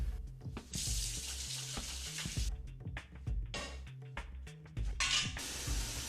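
Tap water runs in bursts, splashing and hissing as it fills a pot for tonkotsu ramen broth, with clanks and pauses between pours.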